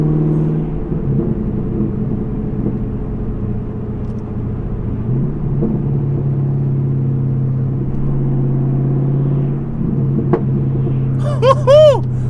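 A Chevrolet Camaro fitted with an AWE Track Edition axle-back exhaust rumbles steadily at close range for several seconds, then gives a loud rising rev burst near the end, with no talking.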